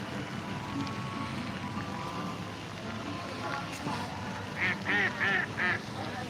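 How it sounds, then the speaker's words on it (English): Several ducks quack in a short burst near the end, loud and close, over a steady outdoor background hum at Big Spring Park in downtown Huntsville. "I check out the ducks out."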